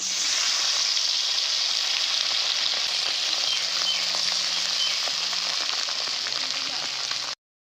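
Fresh pond morala fish fry village-style in hot oil, a loud, steady, close sizzle that crackles evenly throughout and stops abruptly at the end.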